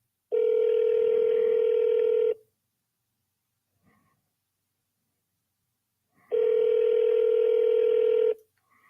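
A telephone voicemail system sounds its recording tone: two long, steady electronic beeps of about two seconds each, separated by a few seconds of near silence, clear and isolated on the line.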